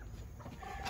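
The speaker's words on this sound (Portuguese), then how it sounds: "Aqui são minhas galinhas." Chickens, hens kept on a small farm, cluck softly and briefly in a short burst of low farmyard noise.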